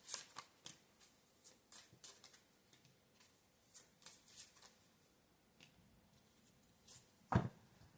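Tarot cards are shuffled repeatedly in quiet surroundings, a soft close riffle of crisp paper flicks in irregular bursts, ending with one louder snap.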